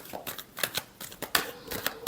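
Tarot cards being shuffled by hand in a quiet room, a couple of seconds of soft riffling and flicking with a faint voice behind it.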